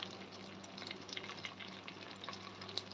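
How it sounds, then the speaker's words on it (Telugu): Green chillies, dried red chillies and curry leaves fry in hot oil for pongal, making a continuous crackling sizzle with small pops, fairly quiet and steady with no talking. "బాగా ఫ్రై చేయాలి ఇవన్నీ"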